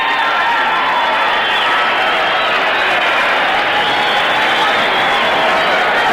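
A boxing arena crowd roars steadily as a fighter bows before a professional bout, a dense, continuous wash of cheering and applause that holds at full volume throughout, with no single voice standing out.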